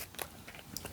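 Crunchy Voodoo fries topped with Cajun seasoning and ranch are bitten and chewed up close, giving several quick, crisp crunches in a short burst with no talking.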